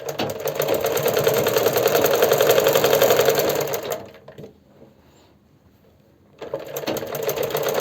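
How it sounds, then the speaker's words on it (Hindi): A sewing machine runs steadily, stitching along the edge of a palazzo pant's waist belt, falls silent for a couple of seconds, then starts up again close and loud. "पहले मैं आगे वाले बेल्ट पर लगा देती हूँ सिरे वाली सिलाई"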